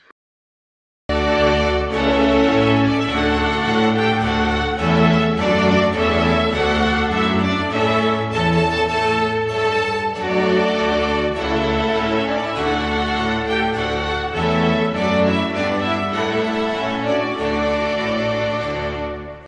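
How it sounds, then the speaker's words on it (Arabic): A trumpet plays a bright, sustained melody at full volume over steady accompaniment for about eighteen seconds, with no talking. "وهو ده صوت الترامبت"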